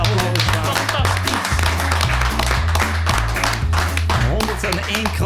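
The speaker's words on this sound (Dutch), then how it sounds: "Vol applaus." Applause from the audience at a live finale is heard under loud, bass-heavy music, with scattered bursts of clapping throughout.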